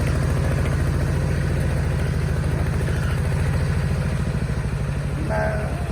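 Tractor engine running steadily at a rough, even chug throughout, loud and close, used for plowing sandy soil, with a faint clink near the end.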